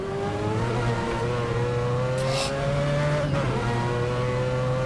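A 690 PS Mazda 787B race car in Assetto Corsa, lapping the Nordschleife, holds a loud, sustained engine note whose pitch rises and dips, with a short burst of high hiss partway through.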